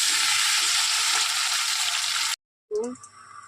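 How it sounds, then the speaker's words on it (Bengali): Potato, duck egg and pointed gourd fry in hot oil in a pan, giving a loud, steady, close sizzle that cuts off briefly, then returns quieter with a faint stirring sound. "আলু ভাজা এই ডিম ভাজা পটল ভাজা করে নিয়ে"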